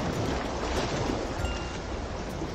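Rough open sea surges around an offshore rock off Hong Kong Island's southern coast, a steady loud roar of wind and breaking waves with buffeting gusts on the microphone and no voices.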